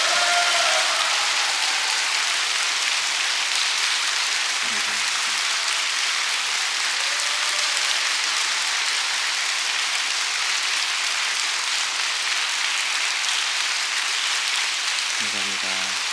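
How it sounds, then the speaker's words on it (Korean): A church congregation applauds continuously to welcome a pastor coming forward to give his farewell sermon, a dense, even wash of many hands clapping that holds steady with a faint voice briefly audible. "나오실 때 우리 박수로 한번 환영해 주시면 고맙겠습니다"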